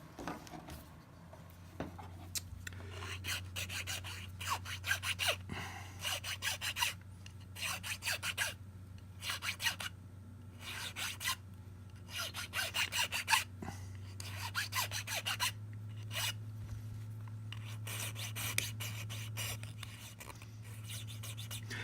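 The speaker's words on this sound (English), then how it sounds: "I got to clean up a few more edges and then do some hand filing" A contrabass clarinet mouthpiece is hand-filed in a regular back-and-forth rhythm of close rasping strokes, repeated over a faint low hum, with no speech.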